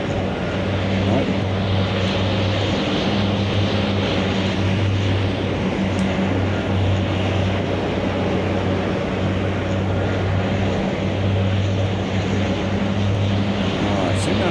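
Steady, loud drone of the De Havilland Dash 7's engines at high throttle in Microsoft Flight Simulator, a continuous hum with strong low tones running unbroken, with a voice talking over it.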